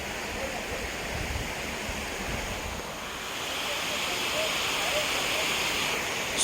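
A river in Gir Forest, Junagadh, flowing over a stony bed, giving a steady broadband rush of water that swells slightly toward the end, with some wind buffeting the microphone and no speech.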